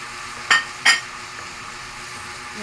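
Garlic frying in a pan and being stirred, with a steady sizzling hiss broken by two short scraping clatters of the utensil against the pan.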